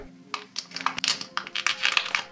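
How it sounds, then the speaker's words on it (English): Black reflective film is peeled off the glass back of a OnePlus 6 in one go, giving a close run of crinkly, crackling tearing bursts with no talking. "I was able to get the rest of the black layer of reflective black film to pull off all at once"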